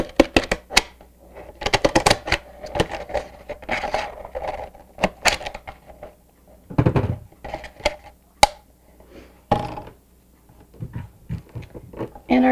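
Scissors cutting a plastic water bottle into a strip for a necklace, giving a run of sharp close snips and crinkly plastic crackles scattered irregularly across the stretch.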